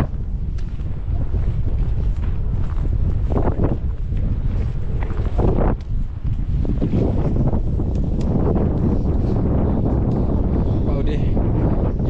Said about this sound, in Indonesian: Angin semakin kencang ya.